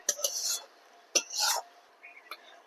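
A spoon stirring and frying spices in a pan for rohu fish curry with potatoes, heard as a few close, bright scraping strokes with short gaps and soft clinks between them.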